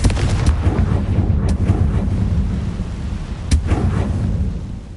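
A Confringo blasting spell goes off in Hogwarts Legacy, heard as a dense, loud rumbling boom with crackling bursts near the start and a sharp crack midway, sustained throughout with no talking.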